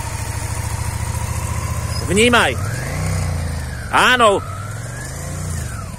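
A motorcycle engine idles and revs during a riding lesson, rising in two sharp bursts of throttle against a steady low chug, with an instructor talking over it.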